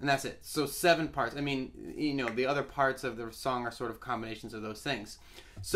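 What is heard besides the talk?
No everyday noise stands out behind the speech.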